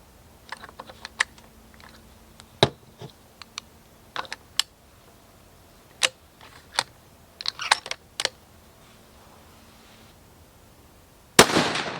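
Three sharp, isolated rifle shots from a Browning X-Bolt .300 Win fired at a 100-yard range, spaced seconds apart, with a loud final crack, alone without talk.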